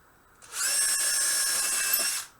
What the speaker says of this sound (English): drill a couple holes to get me started here